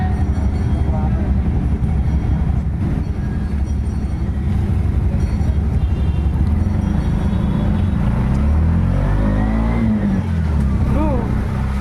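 Heavy road traffic on a flooded street in Taytay, a continuous loud rumble of engines and passing vehicles with occasional revving, heard close from inside a vehicle while people talk.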